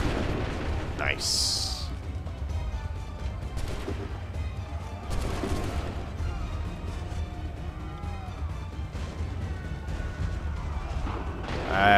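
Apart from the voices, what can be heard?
musket volley gunfire in Assassin's Creed 3 video game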